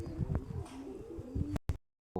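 A pigeon coos several times, close and fairly soft, in rhythmic low calls. A few clicks and a brief gap of silence come near the end.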